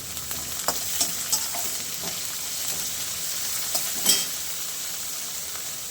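Curry leaves, ginger and coriander sizzle in hot oil in a pan, a steady close crackle with scattered pops and a few stirring scrapes, no voices.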